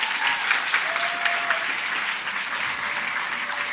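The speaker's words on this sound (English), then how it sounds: "please give a round of applause for the best organizing team I've ever seen" A conference audience at a youth parliament selection event gives sustained applause for the organizing team, a dense, steady roar of clapping with no talk over it.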